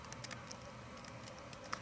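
Keys clatter on a computer keyboard as text is typed, a quiet, close run of light, irregular taps.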